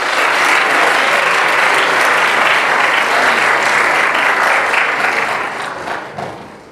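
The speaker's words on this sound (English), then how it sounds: "Round of applause for Courtney, ladies and gentlemen." Audience giving a round of applause, loud, dense clapping filling the room for several seconds before tapering off at the end.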